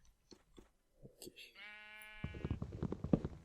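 A sheep bleats in a video game, one drawn-out bleat after some clicks and munching, followed by someone talking over it.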